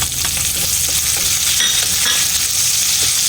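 Chili peppers sautéing in a pan for crab in coconut milk with squash, a loud steady sizzle with stirring scrapes running through.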